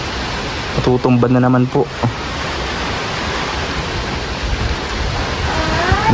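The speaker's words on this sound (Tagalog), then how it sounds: "grabe po ang lakas ng hangin at ulan" Strong typhoon wind and rain roar as a steady, dense wash of noise, loud and close. Someone speaks briefly over it near the start.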